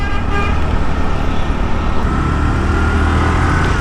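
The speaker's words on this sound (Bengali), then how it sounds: "কিন্তু হর্নের আওয়াজটা খুবই পুয়ার।" A Honda Dio scooter's weak, thin horn sounds while riding, a sustained toot held for several seconds over loud wind and road noise.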